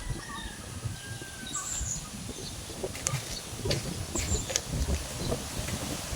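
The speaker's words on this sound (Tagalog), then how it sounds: "Grabing hangin mga kasinag." Steady gusting wind roars across the microphone throughout, with faint bird chirps scattered above it.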